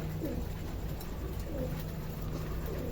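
Pigeons eating grain on a rooftop coo softly in low, rolling calls repeated a few times over a steady background hum, fairly close but quiet.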